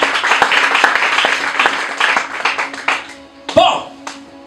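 A congregation at a Sunday church service claps its hands, a lively patter of many hands that thins out after about three seconds, giving way to a few louder isolated sounds and a voice near the end.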